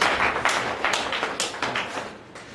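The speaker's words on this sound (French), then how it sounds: "je voudrais que vous fassiez pour vous-même un tonnerre d'applaudissements" An audience at a media training workshop on public finance management in Sikasso applauding, with steady dense clapping and a few louder accents, fairly close and loud, no voices over it.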